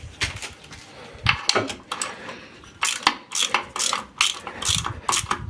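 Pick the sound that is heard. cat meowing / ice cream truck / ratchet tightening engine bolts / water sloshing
ratchet tightening engine bolts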